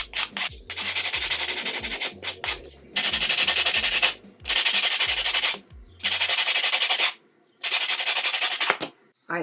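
A buffing block rubs over builder gel on fingernails in quick back-and-forth strokes, a close, bright, gritty sanding sound in repeated bursts lasting about a second each, separated by short pauses.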